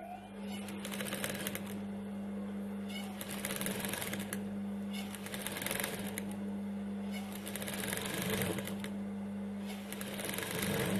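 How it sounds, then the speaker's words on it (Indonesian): Sewing machine stitching a small double-folded fabric hem, running in a continuous fast rattling whir with a steady motor hum and brief pauses, heard close and fairly quiet. "Dua kali kita tekuk lalu kita jahit lagi."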